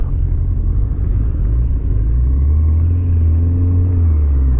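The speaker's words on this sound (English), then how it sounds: "sort of sound from the engine that it's almost like something hasn't been tightened up" A Kawasaki ZZR 1100 motorcycle engine idles steadily with a deep, continuous rumble and a loose, rattly undertone as if a cover or fitting were not tightened, close and loud throughout.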